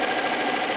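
A sewing machine top stitching around a placemat at a long stitch length runs a close, continuous mechanical whir, steady and uninterrupted, without speech.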